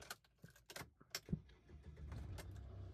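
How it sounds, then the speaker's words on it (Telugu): A Tata Hexa XMA automatic with about 51,300 km on it: keys jangle and a few clicks, then the engine catches and settles into a steady, close idle rumble. "కార్ అయితే స్టార్ట్ చేసాను, చూసుకోవచ్చు."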